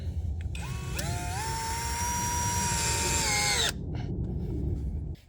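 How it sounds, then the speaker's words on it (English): Power drill driving button screws into a garden shed frame, one sustained whirring burst of a few seconds with a rising then falling pitch, close and loud, ending abruptly with no talk. "Then I'm just going to get some button screws here and screw it to the frame"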